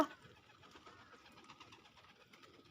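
Pigeons coo softly in roadside trees, a steady low burble under a faint engine hum in the background.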